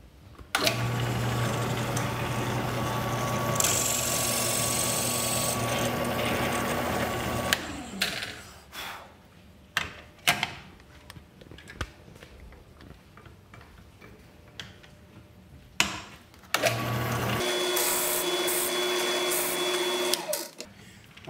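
Brass pen tube being trimmed flush with a wood blank on a pen-making lathe setup, a loud steady whirring cutter in two long bursts with a stretch of scattered clicks and taps between them, close and with no talking.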